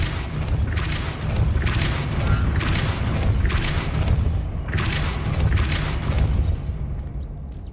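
The Depulso force spell in Hogwarts Legacy produces a series of rumbling magical bursts and whooshing thumps, several pulses in quick succession over a low booming background.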